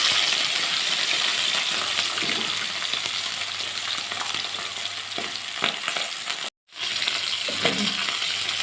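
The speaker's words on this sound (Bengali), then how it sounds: "এবারও মাছগুলো ভেজে নেব" Steady, loud sizzling of fish frying in hot oil, with occasional crackles and a brief dropout near the end.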